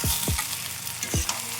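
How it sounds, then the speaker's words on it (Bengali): Potato and pointed gourd stir-fry in spices, the pan scraped by a spatula in a few quick strokes over a steady low sizzle, close and alone. "এটাকে আমি এখন ভালো করে কষিয়ে নেব"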